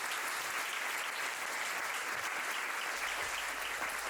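Steady, dense applause from a conference audience at a summit, sustained evenly throughout, heard from a distance without speech.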